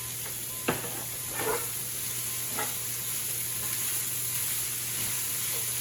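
Corned beef hash seasoned with hot Hungarian paprika and coriander seeds sizzles steadily in a frying pan, with a few brief stirring scrapes over the constant hiss.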